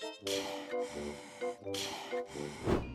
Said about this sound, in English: How do you interpret that psychotic heavy breathing at the end?